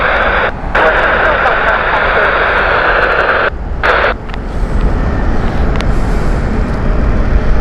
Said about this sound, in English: Brand new Airbus A330 Neo.